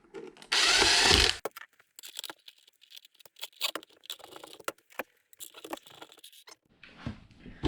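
A cordless driver runs screws into a Polaris 380 inground pool cleaner during a belt replacement: one loud steady whir of about a second, then scattered close clicks and plastic handling knocks.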